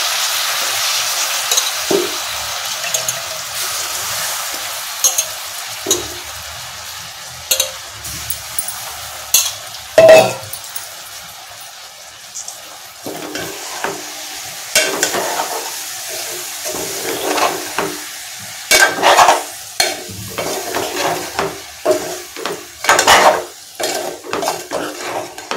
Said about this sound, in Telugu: రైస్ కూడా కొంచెం ఆయిల్లో లాగా వేగితే బాగుంటుంది,